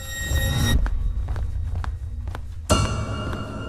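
Footsteps of someone walking in a hotel corridor outside a room, several soft, evenly spaced taps heard alone against a quiet background, framed by a louder droning ambience at the start and end.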